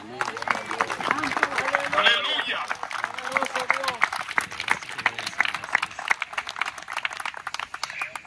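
A church congregation at a Bible Day service applauds for Christ. Scattered, crackling clapping runs through the whole stretch while a preacher's voice speaks over it.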